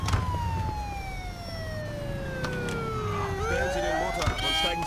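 Police car siren from the Mafia II video game wails in a long falling tone and then rises again, loud over a rumbling engine, with a voice faintly underneath.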